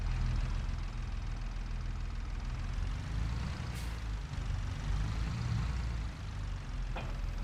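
Steady low engine drone of a tractor in a farming video game runs throughout, continuous and fairly loud, with a brief hiss and a faint click partway through.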